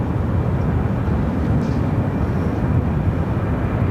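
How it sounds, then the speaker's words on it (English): An airplane takes off from runway 7 Left at Phoenix Sky Harbor (PHX), a steady, loud broadband engine roar that stays constant throughout without pause, with no voices. "We should be able to see it take off on, if the runway still is in operation for 7 left."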